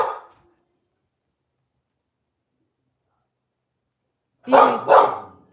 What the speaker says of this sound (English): the dog went crazy